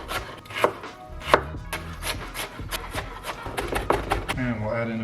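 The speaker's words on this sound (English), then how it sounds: "Finally, we'll just mince up some aromatic." Aromatics are minced on a wooden cutting board for Korean BBQ, a quick, irregular run of sharp knife chops up close, with a voice briefly speaking near the end.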